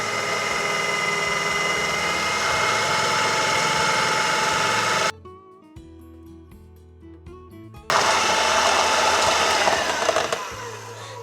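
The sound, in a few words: electric mixer whisking cake batter with milk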